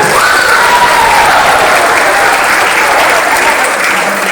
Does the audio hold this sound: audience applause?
yes